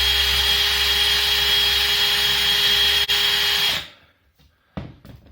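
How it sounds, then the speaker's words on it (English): A power drill countersinks screw holes in a consumer unit enclosure, giving a loud, close, steady high whine for almost four seconds before it winds down and stops, followed by a few faint handling knocks. "countersink the holes."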